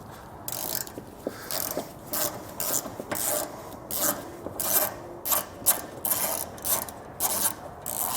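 A hand ratchet clicks rapidly and repeatedly in bursts while backing out a 10mm bolt during a Curt trailer hitch receiver installation, a close, rasping rhythm with brief pauses between strokes.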